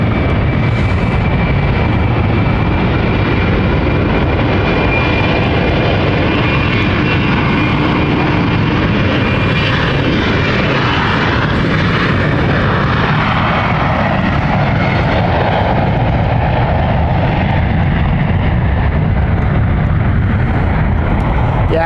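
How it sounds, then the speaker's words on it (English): An airliner on a Geneva flight takes off at London City Airport, its jet engines building a loud, sustained roar with a faint whine that shifts as it passes. No one speaks over it. "Geneva flight taking off."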